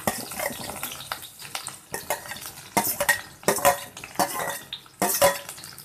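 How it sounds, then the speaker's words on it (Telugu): Chopped ridge gourd pieces tumble into a pan of frying green chillies, setting off bursts of clattering stirring and metal scraping against the pan with brief sizzling between, up close and with no talk. "చూడండి, పచ్చిమిరపకాయలు ఫ్రై అయినాయి కదా కొంచెం. ఇప్పుడు ఈ పొట్లకాయ ముక్కలు వేసేసుకోవటం."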